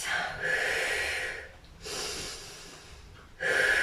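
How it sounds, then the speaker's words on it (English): Heavy breathing close by, with long audible inhales and exhales alternating in a slow rhythm. "It's all right to hear you breathing."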